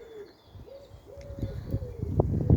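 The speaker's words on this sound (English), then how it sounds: "I can hear the owl. It must just be quite close by." An owl calls at night in Scottish woods at a wild camping spot, giving a few soft, drawn-out hoots fairly close by, with faint rustling and thumps that grow louder toward the end.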